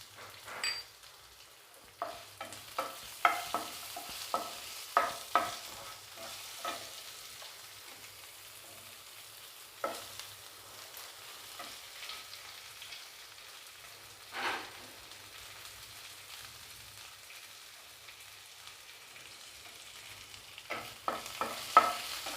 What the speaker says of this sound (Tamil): ஸோ வெங்காயம் நல்லா வதங்கட்டும்.